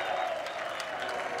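A Ryder Cup golf gallery breaks into a brief burst of dense applause, heard from a distance and fairly faint, with crowd noise blended in.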